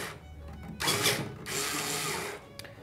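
A string winder turning a tuning machine to tighten a double bass string, two bursts of close, faint ratcheting and whirring with a short pause between them.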